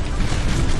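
Cannon fire striking a pirate ship in the naval game Maelstrom, a dense, loud booming rumble with repeated low bursts running through the whole short moment, no voices.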